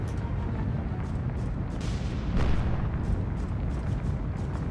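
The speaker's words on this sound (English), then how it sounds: "the second shot has caused a massive magazine explosion" A warship's magazine explodes in the naval combat game War on the Sea, a heavy, sustained roaring blast with rumbling booms that stays loud throughout.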